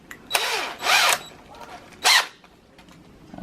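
A handheld power drill whirs in short bursts, three quick spins with pauses between, close by and fairly loud.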